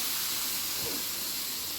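A bottle gourd thalipeeth flatbread (dhapata) is laid on a hot, oiled griddle and gives a steady, close hissing sizzle throughout.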